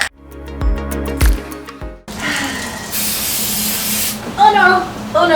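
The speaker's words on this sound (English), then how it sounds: "So now the next step is to go spray all this stuff with Flexi Dip." A steady, close hiss of an aerosol can spraying Plasti Dip rubber coating for a couple of seconds, after some tapping and handling noises.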